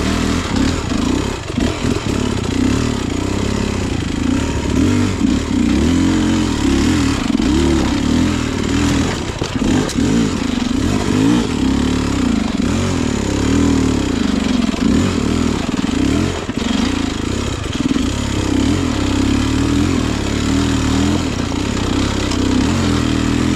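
A Beta XTrainer two-stroke dirt bike engine buzzes and revs continuously while riding off-road, loud and close, with rattling clatter and throttle surges over the whole stretch.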